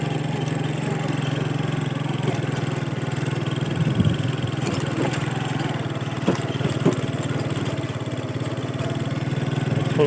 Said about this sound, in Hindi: ऐसा मोटरसाइकिल चला रहे हैं